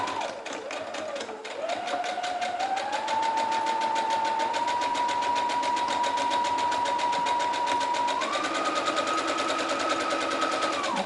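A sewing machine runs steadily, stitching fabric mask pieces one after another, its rapid mechanical whir close and continuous with a few speed shifts.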